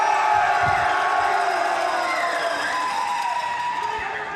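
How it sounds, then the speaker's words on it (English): A large crowd at the Classic Tetris World Championship semifinals cheers and shouts loudly, a dense sustained roar with whoops that holds steady and fades slightly toward the end. "If you are rooting for Alex T to win this, make some noise"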